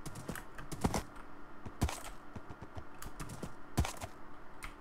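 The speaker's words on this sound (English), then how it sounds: "A lot of horses around here." Hooves clop at an irregular pace as horses walk in Minecraft, soft close taps over a faint background, with no voices.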